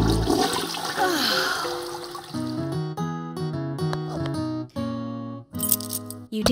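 Cartoon toilet flush: a gushing, swirling rush of water that gives way to a series of bright, musical gurgling tones with short pauses between them, loud and close, with no talking.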